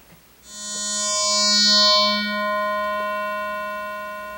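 A Hydrasynth synthesizer plays an FM patch built on a Yamaha DX7-style algorithm with a sine-wave modulator. A single sustained, bright harmonic tone swells in, holds steady for several seconds and slowly fades, alone and fairly loud.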